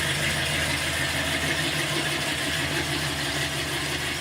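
A Dodge Charger V8 engine runs steadily at a close, loud idle, its deep rumble holding an even tone without revving throughout.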